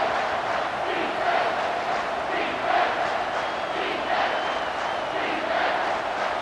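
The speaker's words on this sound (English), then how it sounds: "This crowd knows this defense needs them right now." Stadium crowd in EA Sports College Football 25 roaring continuously during a tense defensive moment, a dense, loud wash of cheering voices swelling in waves and filling the whole stretch without pause.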